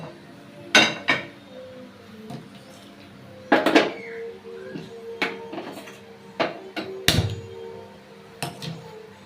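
A pan is set on a kitchen stove with a few sharp metallic clanks and knocks. Softer clinks and handling sounds follow at irregular intervals.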